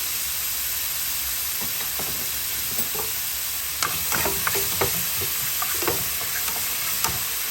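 Garlic with pepper, salt and seasoning sizzles in a pan as the base of a rice or spaghetti stir-fry, a steady hiss punctuated by scraping stirs and light clinks in the second half, with no speech.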